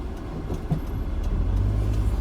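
A 1998 MGF small sports car driving along, giving a steady low engine and road rumble with constant drive noise from the cabin and no talk.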